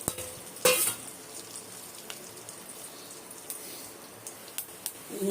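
Whole spices such as cloves, cinnamon, cardamom, fennel and bay leaf frying in hot oil for biryani, with a sharp sizzle burst near the start, then a softer steady crackle and a few light clinks.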